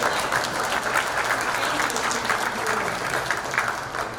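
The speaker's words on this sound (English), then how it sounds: "And Jenny Phil wants to clap at that" A crowd applauds continuously, a steady, dense patter of clapping at moderate volume with no voices standing out.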